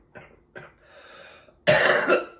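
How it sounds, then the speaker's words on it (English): Several coughs from one person: two short rough coughs, then a quieter breathy stretch, then a loud harsh coughing burst near the end. "I'm getting over a little bit of a cough"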